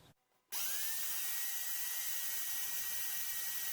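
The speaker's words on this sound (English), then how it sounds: "I route out the design." A router fitted with a CNC bit through a reducing collet cuts a tulip-themed garden sign design, starting abruptly after a short quiet moment and then holding a loud, steady high-pitched whine with a constant tone.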